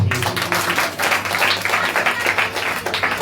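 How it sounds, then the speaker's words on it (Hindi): Church congregation applauding during a sermon, a steady, dense wash of clapping from many hands that fills the room throughout. "यहाँ तो ताली बजने चाहिए।"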